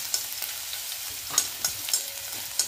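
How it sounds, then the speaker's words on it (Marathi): Garlic, cumin, mustard seeds and curry leaves frying in oil, a quiet steady sizzle with small crackles and a few sharper pops and spatters, close and with no voices. "लसूण छान भाजू द्यायचं।"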